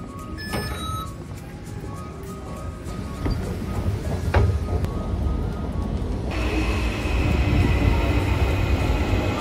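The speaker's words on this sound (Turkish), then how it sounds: "şimdi tren geldi" A train rumbles in with a steady low roar, metallic squeals and clanks, growing louder and shifting in tone as it pulls up close.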